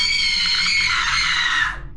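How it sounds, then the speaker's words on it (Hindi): A woman's sustained, piercing scream used as a horror-story sound effect, one long loud cry held steady for nearly two seconds before cutting off abruptly. "वह पुनः जोर से चीखी।"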